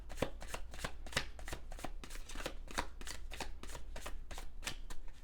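Tarot cards are shuffled close up in quick, regular riffling bursts, a crisp repeated flutter of card edges with no voices.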